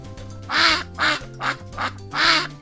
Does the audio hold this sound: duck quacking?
yes